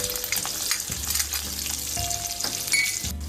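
Green chillies and garlic fry in hot oil in a kadhai, giving a close, continuous crackling sizzle with small pops and faint stirring.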